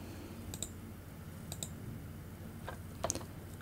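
A computer mouse clicks a few times, sharp and close, spaced out in small pairs and one quick double click, faint against a quiet background with no talk.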